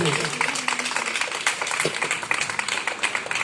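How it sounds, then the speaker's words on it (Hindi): Children clapping at a school welcome, a dense patter of many small hands applauding steadily, with an adult voice speaking over the applause. "तालियां बजाइए बच्चों।"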